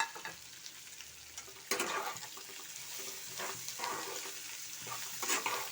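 Spice masala with crushed cardamom and chilies sautés in a pan for a cauliflower curry, starting quietly before a louder sizzle takes over, with intermittent stirring and no speech.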